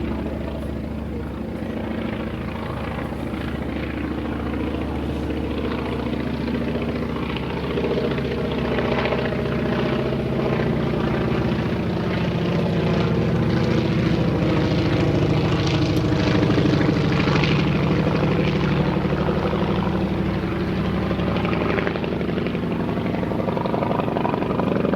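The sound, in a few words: Spirit of St. Louis aircraft propeller engine running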